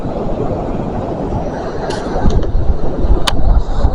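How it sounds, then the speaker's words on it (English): Train approaching along the seafront line at Dawlish, a broad rumbling roar that swells louder in the second half, with a few brief high squeals or clanks as it nears. "We've got a train coming in behind me"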